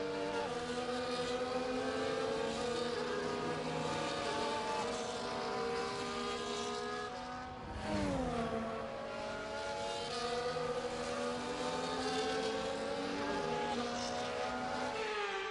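F1 race cars on the formation lap in the F1 24 game at Azerbaijan hum steadily, a dense layered engine drone with a brief dip and swell midway, sustained and loud throughout.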